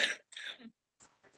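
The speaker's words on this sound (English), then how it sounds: "I apologize, I have a bit of a cough, 1 second." A person on a panel about oral health and frailty coughs and clears their throat several times in short, close bursts, with brief pauses between them and no other talk.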